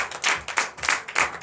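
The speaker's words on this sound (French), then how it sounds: "Donnez encore l'acclamation à Jésus." Congregation clapping in rhythmic bursts at a Sunday worship service in Comè, Benin, loud and close, with four or five waves of applause and no talking.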